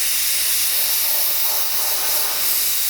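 An airbrush sprays white paint in a close, steady, unbroken hiss of air that holds an even level throughout.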